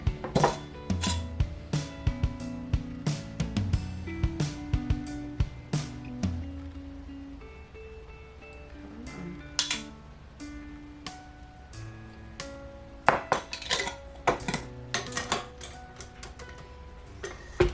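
A spoon scrapes and taps against a bowl while sugar and molasses are stirred together, making irregular clinks and knocks close by, busier at the start and again near the end.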